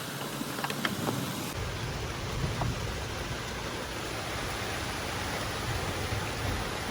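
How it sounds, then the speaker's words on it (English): Heavy rain roars steadily and loudly throughout, a dense unbroken wash with no voices, after a brief rumbling start. "It's how hard it's raining."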